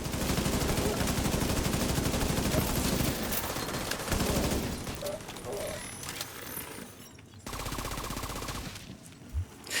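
Rapid video game gunfire crackles loud and dense for about five seconds, then thins into scattered shots and bursts over game noise, with a brief renewed burst near the end.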